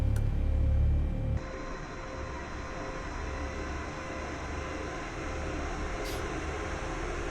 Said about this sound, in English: I have no idea if these engine sounds are realistic or not